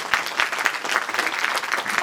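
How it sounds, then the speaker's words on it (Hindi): Audience clapping at a company workshop celebration, a short burst of hand claps at moderate level with voices mixed in underneath. "एक बार तालियां तो बजती है।"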